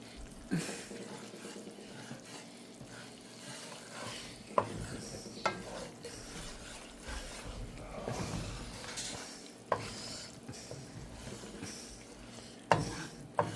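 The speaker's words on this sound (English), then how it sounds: "Kind of keep stirring it until it's nice and golden brown." Flour roux for Kentucky-style brown gravy being stirred in a pan, a low continuous scraping and soft sizzle broken by sharp utensil knocks against the pan at irregular moments, fairly quiet, with no talking.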